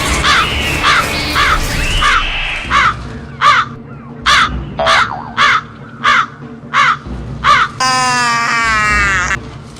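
Crows caw repeatedly in a steady series of loud, close calls, with a rougher, longer caw near the end over a background of outdoor noise.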